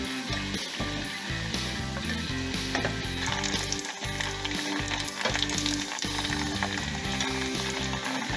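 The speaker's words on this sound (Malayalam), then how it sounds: "ഒന്ന് ഫ്രൈ ആവുന്നതുവരെ മീഡിയം ഫ്ലെയിമിലിട്ട്" Macaroni pasta frying in oil on a medium flame, a steady dense sizzle with crackling bursts and occasional stirring knocks, close and continuous throughout.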